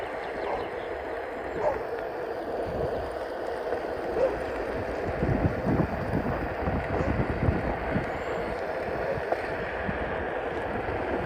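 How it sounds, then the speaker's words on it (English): Moderate morning wind rumbling against the microphone outdoors while riding a Onewheel through a neighborhood, a steady low buffeting with occasional stronger gusts. "Kind of windy this morning."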